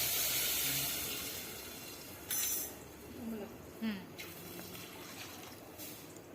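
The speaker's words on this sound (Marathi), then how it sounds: "हळद टाकल्यानंतर आपल्याला लगेच पाणी टाकायचं आहे, कारण हळद जळायला नको म्हणून" Water is poured into a pan right after turmeric goes in, while cooking traditional Maharashtrian shengule: a steady close splashing and hissing pour with a couple of brief clinks, no talking.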